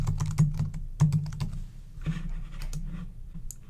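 Fingers type on a computer keyboard, tapping out a close, uneven stream of crisp key clicks with short pauses between bursts. No one speaks.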